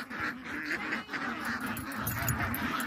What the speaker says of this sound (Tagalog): Tapos meron din sila mga itik.